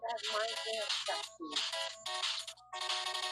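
A phone rings with an 8-bit, Zelda-like chiptune ringtone, bright bursts of electronic beeping in repeated phrases separated by short gaps, loud and close.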